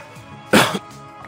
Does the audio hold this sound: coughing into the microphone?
yes